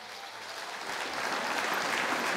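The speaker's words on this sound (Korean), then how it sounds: "다시 한번 큰 박수로 축하해 주시기 바랍니다." A crowd at a Nonghyup monthly staff assembly applauds award winners, a dense, sustained clapping that swells a little and carries on steadily without talk.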